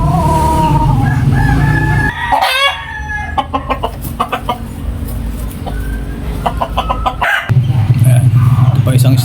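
A young rooster stag crows among other farmyard fowl, with a drawn-out crow at the start, then clucks and sharp bursts of calling, and a second loud crow near the end, over steady background noise and some talk.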